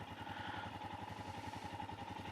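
Engine of a brand-new motorcycle running with a rough, tractor-like agricultural chug, a steady low rhythmic throb with a mechanical whine, fairly quiet and unbroken.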